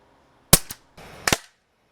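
Two pairs of sharp, close air gun pops from a Crosman 760 and an Umarex APX pellet gun fired in a backyard, each pair a loud crack and a quick smaller follow-up, then quiet.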